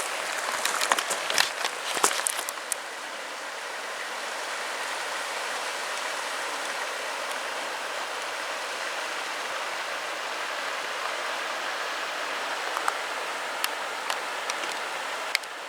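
The Cranberry River in West Virginia flows past in a steady broadband rush of water, close and constant, with a few brief clatters near the start.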